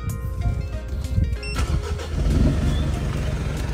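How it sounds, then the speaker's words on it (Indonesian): A Mitsubishi Pajero Dakar with a stock, remap-only engine cranks and starts, then settles into a steady idle heard from inside the cabin. The sound is loud and close. "hidupin dulu ya mobilnya"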